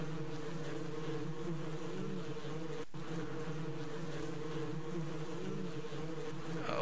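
Bees hum steadily around a beehive in the Ranch Simulator farming game, a continuous low drone with layered buzzing tones that holds at an even level throughout, broken only by a brief click near the middle.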